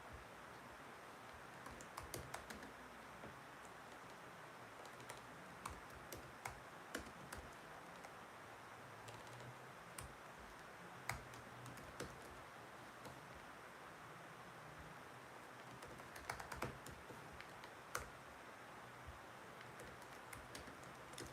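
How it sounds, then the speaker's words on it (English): Quiet keyboard typing, irregular bursts of soft key clicks with short pauses, close by and otherwise fairly still. "I'm typing in a poll right now."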